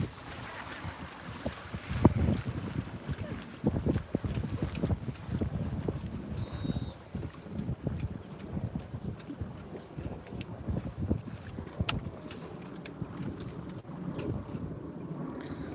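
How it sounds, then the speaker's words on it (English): Boats motoring around on the water nearby, a busy outing with several craft close by, heard as a low engine drone with wind noise and splashy bursts throughout. "I got boats all over me."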